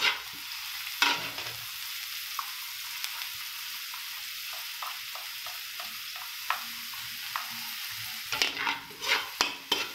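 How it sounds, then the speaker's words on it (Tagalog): Onion and garlic sautéed in a hot pan for kiampong make a continuous sizzle. A spatula scrapes and stirs in a rhythmic run of strokes, and a louder clatter of stirring comes near the end. No one speaks. "so ngayon magigisa lang po tayo ng sibuyas at bawang"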